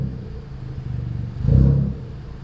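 A Ford Fiesta Zetec S Black Edition fitted with a Cobra exhaust drives through an underground car park with the windows down: a low, steady engine drone that swells into a brief louder rev and rumble before settling back.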